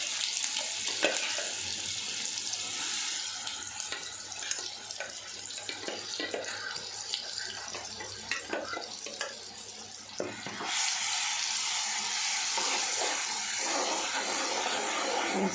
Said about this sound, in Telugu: ఆవాలు చిటపటలు ఆడేటప్పుడు మనం మిక్సీ పట్టుకున్న వెల్లుల్లిపాయ కారం వేసుకోవాలి.